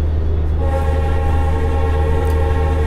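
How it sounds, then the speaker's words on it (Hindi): A WDG4D diesel locomotive horn from the Railworks train simulator, heard at night near a platform as a steady, loud, sustained multi-tone blast over low engine rumble for the whole stretch. "यार, हॉर्न साउंड सुनाई दे रहा है ना।"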